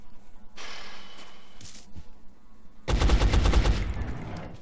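Gunfire from the strategy video game XCOM: Enemy Unknown: a sustained burst of shots early on, a short pause, then a louder, denser volley of rapid automatic fire that fades out, with no talking.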